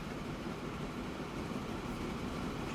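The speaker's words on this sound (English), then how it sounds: "We're going to see the coal train pass by in front of us" A coal train in Transport Fever 2 rumbles past, a steady moderate rolling rail noise with a continuous low drone and no distinct peaks, heard without any talk.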